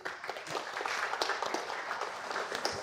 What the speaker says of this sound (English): you need to clap very quietly for them